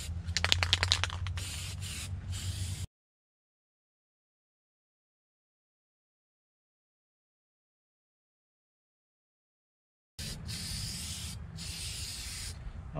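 Paint hisses from a spray can onto an old plastic door panel from a 1978 El Camino, two close bursts of steady spraying separated by a long silent gap.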